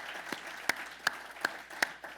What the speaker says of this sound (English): So please, let's just give them a round of applause.